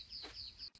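A hen clucks in the farm life game Coral Island, a short high-pitched clucking call of under a second, close and fairly quiet, with a brief break near the end.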